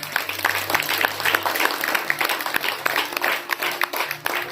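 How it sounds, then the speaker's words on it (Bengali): A gathered audience at a Nabami festival event breaks into applause, with uneven individual claps rising and falling in a busy, close patter over a faint background hum. "তার জন্য একটা বিগ হাততালি হোক"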